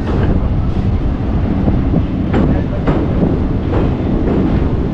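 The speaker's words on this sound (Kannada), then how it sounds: "ಅಂಚಿ ಸೈಡ್ ಕೇರಳ ಹೋಗ್ಬೇಕು ಟ್ರೈನ್ಸ್ ಹೋಗೋಣ." A train crossing the 800-metre Netravati railway bridge in Karnataka, heard as a loud continuous rumble and clatter of wheels, buffeted by wind noise, with a voice speaking over it.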